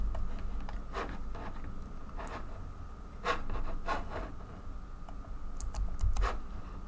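Text being typed on a computer keyboard while designing a book cover: irregular bursts of light key clicks, some quick runs and some single taps, close and quiet over a low room hum, with no talking.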